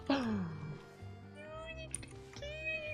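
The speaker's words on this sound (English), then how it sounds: "There's just a baby cat over there." A cat meows in a video game, a clear rising-then-falling cry at the start and a few shorter, fainter mews after it, heard under game sounds and a voice talking.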